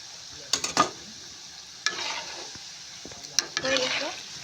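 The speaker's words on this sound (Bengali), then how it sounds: "আমার বড়া ভাজা" Palm fruit fritters made with flour fry in hot oil, a crackling sizzle with bursts of spatter and scraping as they are stirred and turned, close and fairly loud.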